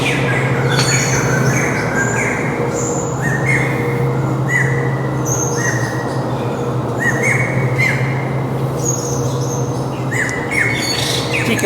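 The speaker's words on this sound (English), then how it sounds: "Pekin robin flitting around." Buffalo weavers and Pekin robins call inside a zoo aviary, with repeated sharp squawks and chirps bursting out every second or so over a constant low hum, fairly close and with no talking.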